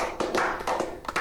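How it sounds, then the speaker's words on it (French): A small group of people clapping their hands in short irregular bursts of applause, close and fairly loud, with brief gaps between the rounds of claps. "On va les applaudir"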